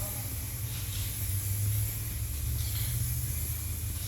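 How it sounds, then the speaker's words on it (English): A steady, continuous hiss of black guide coat sprayed from an aerosol can onto a car body repair, close and even, with a low background hum running underneath. "I've got some black guide coat here, I'm just going to spray that on"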